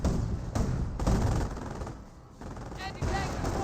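An AT gun gets blown up on a Teller mine in the Company of Heroes video game, heard within dense, rapid gunfire and explosive bursts that crackle loudly throughout.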